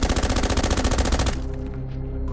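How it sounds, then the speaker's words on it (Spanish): Rapid automatic gunfire rattles loud and close in a steady burst against a helicopter's fuselage in Puerto Rico, then cuts off, leaving a lower ringing drone. "En este momento fue donde los agentes comenzarían a sentir balazos impactando"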